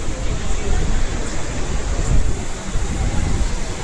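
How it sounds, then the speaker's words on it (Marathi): Dense, heavy monsoon rain roars steadily with a broad washing hiss and low rumble, close and constant. "पावसाचा जोर पुन्हा वाढतोय"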